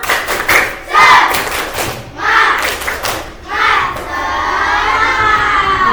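A group of children shout and clap together in bursts, a loud rhythmic chant of claps and cheers close by.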